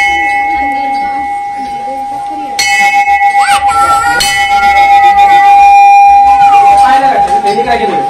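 A bell at a Mahadev temple rings in a fast, continuous metallic clanging with a sustained ringing tone underneath, loud and close, while people talk nearby.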